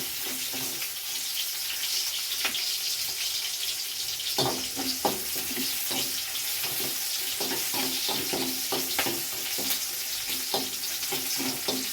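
Onions roast in a hot pan as ingredients for ridge gourd chops, giving a steady close sizzle with scattered scraping and stirring clicks throughout.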